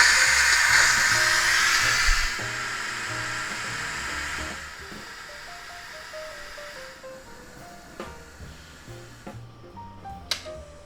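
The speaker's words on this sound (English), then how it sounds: "we just hit this little valve back here to do a quick release, let all steam out" Steam hisses loudly from the quick-release valve on a pressure cooker holding cabbage soup, then tapers off and gives way to a softer whine and a few faint clicks.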